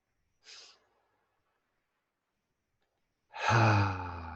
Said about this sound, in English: I want you to take some deep breaths in through the nose